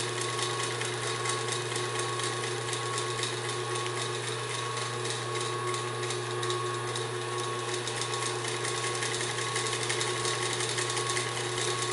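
A vintage Singer 78-3 industrial walking foot sewing machine runs steadily for the whole stretch, with an even, quiet motor hum and fine rapid stitching clatter and no break in the rhythm.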